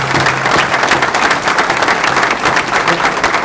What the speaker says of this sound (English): I want y'all to give them a round of applause right now.